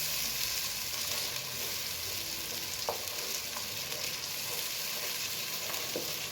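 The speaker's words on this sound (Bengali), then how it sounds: "মশলাটা কষাতে হবে ভালো করে, যেন স্বাদ দ্বিগুণ করে" Spice paste for a duck curry stir-fried hard in a pan, giving a steady, dense sizzle with a few faint scrapes of a spoon, close and continuous with no voices.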